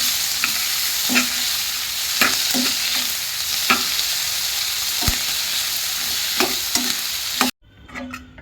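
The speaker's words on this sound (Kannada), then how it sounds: "ಇದಕ್ಕೆ ಚಕ್ಕೆ ಲವಂಗ ಆ್ಯಡ್ ಮಾಡ್ಕೊತಾ ಇದ್ದೀನಿ ಸ್ವಲ್ಪ ಕೊತ್ತಂಬರಿ ಸೊಪ್ಪು ಸೇರಿಸ್ಕೊಂಡು ಫ್ರೈ ಮಾಡ್ಕೋಬೇಕು" Cinnamon, cloves and coriander leaves frying in oil for a North Karnataka brinjal curry: a constant close sizzle with regular clicks and scrapes of a spoon stirring the pan, which cuts off sharply near the end.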